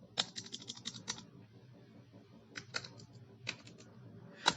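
Computer keyboard typing while entering a furniture fixed-asset ledger in Tally accounting software: quick bursts of soft key clicks, a fast run at the start, then scattered taps and short flurries with pauses, close and fairly quiet, no talking.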